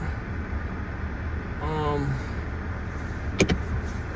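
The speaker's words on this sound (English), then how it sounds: "I'm over here driving back to the house." A car heads home in a steady low interior drone. Partway through comes a short rising whine like a power window, then a brief sharp click, with no clear talking.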